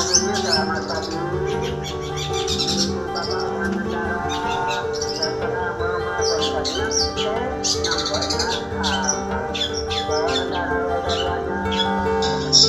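A young long-tailed shrike sings harsh, scratchy song with rapid chattering phrases and squawks, loud and continuous throughout, close by with a steady background drone.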